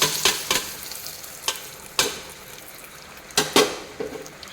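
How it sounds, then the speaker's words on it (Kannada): A tempering hits hot oil for an amaranth-leaf dal curry, giving loud crackling bursts and sharp spits that flare, fade and flare again over a constant background sizzle. "ಒಗ್ಗರಣೆಗೆ ಹಾಕ್ತಾ ಇದ್ದೀನಿ."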